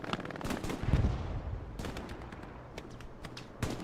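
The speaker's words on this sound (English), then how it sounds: "Strafing run from Legion" Machine-gun fire from an aircraft strafing run in the Hell Let Loose game, during a friendly match on the Foy map. Dense bursts of rapid shots come in several clusters, loud at first, then fainter rattling, with a sharp final burst.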